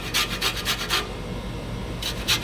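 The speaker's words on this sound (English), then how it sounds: "So you are going to zest the entire lime for your garlic lime mayo." A lime is zested on a cheese grater with short rasping strokes, a quick run of about five scrapes, a pause, then two more, close and fairly quiet with no talk.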